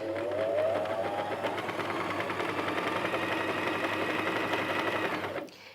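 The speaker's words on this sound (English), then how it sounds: "I went right up to top speed there for you, and with this machine that's 800 stitches per minute." A Janome 423S sewing machine runs at its top speed of 800 stitches per minute. It gives a loud, continuous, fast rattling whir that holds steady for several seconds and then stops abruptly, with no talking.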